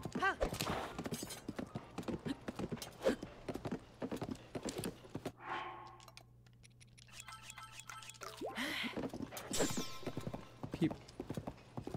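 A horse's hooves clip-clop in a steady, brisk rhythm in the video game Tears of the Kingdom. The hoofbeats pause briefly midway, then resume at a moderate volume.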